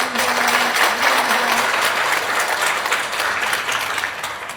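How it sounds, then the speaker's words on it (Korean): A church congregation at a Sunday evening service claps after children and choir members perform, a loud burst of applause that swells early and tapers gradually. "박수 한번 부탁드립니다"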